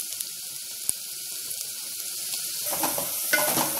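Spices for oggarane tempering sizzle in hot oil for a jeerige bajji dish, a soft continuous crackle at low level that grows busier and louder toward the end, with a few sharp pops and no talking.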